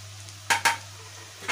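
Garlic frying in a pan for egg curry, a soft sizzle under a low steady hum, broken by a few sharp stirring scrapes and clinks of a utensil against the pan.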